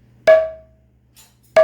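Two sharp open rim strokes on a mridanga, the first ringing with a clear sustained tone that fades over about half a second, the second arriving after a pause, with a faint tap between them; close and loud, no talking.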